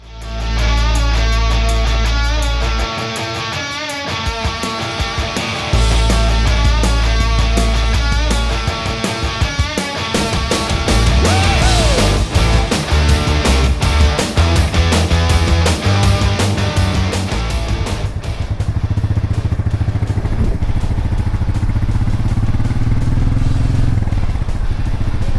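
A Royal Enfield Meteor 350 motorcycle being ridden, its engine loud and near with a thumping single-cylinder pulse, shifting through revs and gear changes, then settling into a steadier lower drone near the end.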